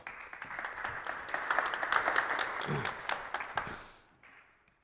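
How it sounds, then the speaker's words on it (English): Audience applause at a winter satellite industry workshop greets a speaker coming to the stage, a dense burst of many hands clapping that swells, holds for a few seconds, then thins and fades out. "let's get him to take a huge round of applause"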